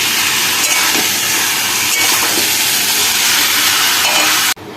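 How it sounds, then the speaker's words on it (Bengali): Chicken and dal stirred with spices in a hot pan give a loud, steady sizzle with scraping stirs throughout, cutting off abruptly near the end. "ডালটা দিয়ে একটু নেড়ে তেড়ে নেবো"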